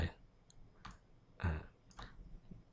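Several separate clicks and taps from computer keyboard typing, entering translate values in Maya 2018, sounding close and moderately quiet with short pauses between keystrokes and no talking.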